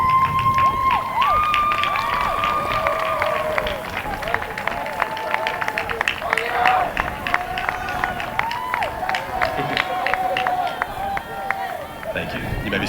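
Families at a 2021 commencement ceremony are honored with cheering and applause, a crowd of clapping hands, shouts and whoops rising over a spoken voice on a public-address system and sustained for several seconds.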